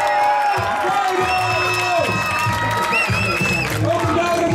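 A crowd at a fighting event cheers and applauds loudly throughout, with an announcer's voice booming over the noise.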